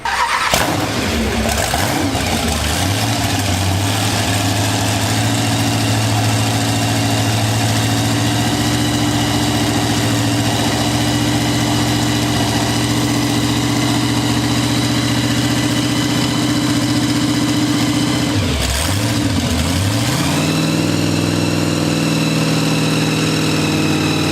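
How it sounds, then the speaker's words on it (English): A loud car engine runs continuously close by, idling with a steady drone and revving briefly near the start and again later. "you're going to hear a lot of cars start up and run on this tour"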